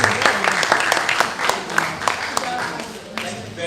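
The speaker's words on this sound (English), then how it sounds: "Shall we please give him a round of applause, please?" Applause from the audience at a university advisors' workshop session, a dense steady patter of many hands clapping through the whole stretch, with some talk underneath.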